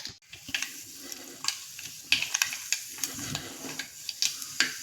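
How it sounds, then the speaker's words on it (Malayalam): Mustard seeds dropped into hot coconut oil in a pan for a Kerala-style fish curry, giving a steady sizzle dotted with sharp crackling pops and ticks through the whole stretch. "എണ്ണ ചൂടായതിന് ശേഷം കടുക് ഇട്ട് കൊടുക്കാം."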